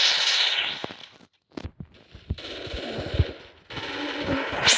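Pistol gunfire in the Free Fire video game: rapid bursts of sharp shots in quick succession, loud and close, separated by brief pauses, with no speech.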